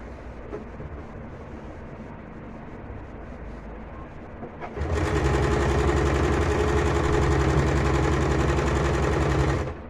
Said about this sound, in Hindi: फिर हम इस पे एक सिलाई यहाँ से लगाएंगे।